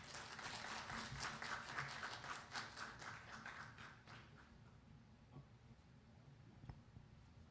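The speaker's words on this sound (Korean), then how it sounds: "뜨거운 박수로 환영해 주시면 감사하겠습니다" A hall full of people claps to welcome a speaker at a Korean Forest Service aviation headquarters ceremony, faint, brisk applause that thins out and fades, leaving a few scattered taps.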